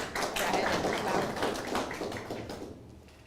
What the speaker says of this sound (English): I think we can do a better clap for better than that.